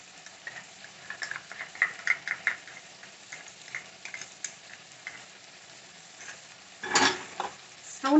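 A spoon stirs masala into a simmering prawn curry on a low flame, producing light irregular scrapes and faint sizzling, close and fairly quiet, with a louder clatter near the end.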